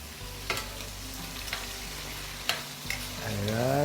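Shrimp sizzles steadily in a frying pan while a utensil stirs it, giving several sharp scrapes against the pan over a continuous close frying hiss.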